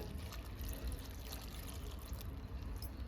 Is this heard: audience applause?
no